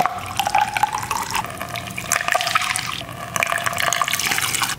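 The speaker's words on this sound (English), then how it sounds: "we'll fill up each cell with our Epsom salt and distilled water solution" Epsom salt and distilled water solution pours into the cells of a dead battery, a steady watery trickle and splash, close and fairly loud, running continuously with no talk.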